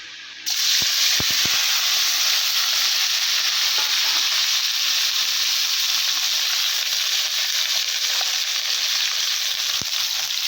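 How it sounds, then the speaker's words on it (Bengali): Cut okra drops into hot oil in a wok and sets off a loud, steady, hissing sizzle that fills the whole stretch, with a few brief clinks and taps of utensils near the start and end. "এই যে ভেন্ডিগুলো কেটে রেখেছি, এগুলো ভেজে নেব।"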